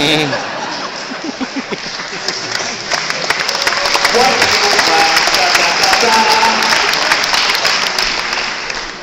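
A studio audience claps in a broad, sustained wash, with chuckles, scattered voices and a speaking voice mixed in throughout.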